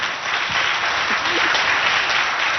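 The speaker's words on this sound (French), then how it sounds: "on va applaudir très fort pour tous nos enseignants qui sont là." An audience at a school event in Abéché, Chad claps loudly for the teachers present, a continuous wash of many hands sustained evenly throughout, with no talk over it.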